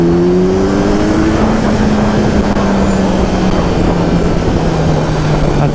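Kawasaki Z900 2022 motorcycle, a heavy 212 kg bike, launching hard with a loud, steady engine roar that climbs in pitch through the gears, close and continuous throughout.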